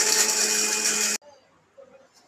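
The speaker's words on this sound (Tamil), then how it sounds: "வாங்க மிக்சியில் அரைச்சிக்கலாம்." A kitchen mixer grinder whirs loudly as it grinds roasted biryani spices, running steadily for about a second before cutting off abruptly, followed by faint small clatter.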